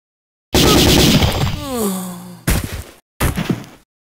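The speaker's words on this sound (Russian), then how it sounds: "Ну, этот, скорее всего, меня видит, поэтому используем автомат" Automatic rifle fire in the turn-based game Jagged Alliance 2, Back 2 Business mod: a loud sustained burst opens, followed by a falling, groan-like tone and two shorter, sharp bursts separated by brief silences.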